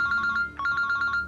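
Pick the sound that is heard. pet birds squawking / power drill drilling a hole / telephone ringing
telephone ringing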